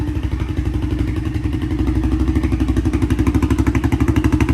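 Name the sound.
Arctic Cat DVX400 ATV engine idling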